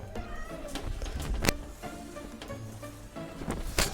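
Cat meowing indoors during a home bathroom renovation, a few short meows scattered among rustling and knocking, with a woman coaxing it in a soft voice.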